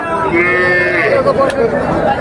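Cattle at a village cattle market in Raniganj, Ghoraghat, where Sahiwal and local heifers are traded; a close, drawn-out moo rises over the continuous chatter of a crowd.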